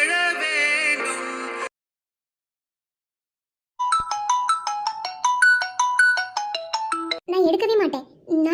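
A phone plays a melodic ringtone, bright repeating tones that stop after a pause and then start again in a longer stepped pattern, followed by brief talk.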